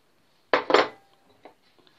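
Boiled potatoes tip into a mixing bowl for Russian salad, two quick close clattering knocks against the bowl followed by a few faint taps, then quiet.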